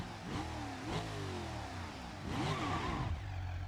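In the driving game BeamNG, a car engine revs up and down twice with its pitch rising and falling as it strains for third gear, and no one speaks over it.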